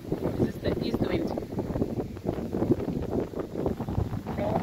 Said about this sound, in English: This is the east wind.